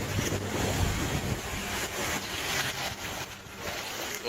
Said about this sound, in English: Raging lake waves pushed boats onto land, tearing through everything in their path.